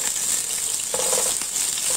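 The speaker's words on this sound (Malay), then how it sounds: "kita akan gorengkan dulu kita punya bawang dan cili-cili ni" Onions and chillies fry in a pan with a close, continuous sizzle and crackle, a brief stirring scrape rising partway through, and no talking.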